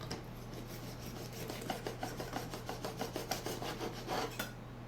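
A knife saws through a loaf of homemade sandwich bread in a quick back-and-forth rhythm of soft rasping strokes, close and fairly quiet over a low steady hum, with no one talking.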